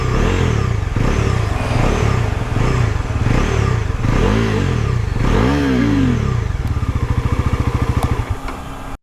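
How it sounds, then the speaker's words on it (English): A Bajaj Pulsar NS 400Z motorcycle engine fires up and idles loudly up close, blipped through several rising and falling revs before settling into a fast, steady, thumping idle that cuts off at the end. "So if we just click it, this is how the bike is going to sound."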